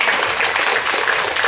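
An audience at a music concert applauds in dense, continuous clapping that stays loud and even throughout, with no talk over it.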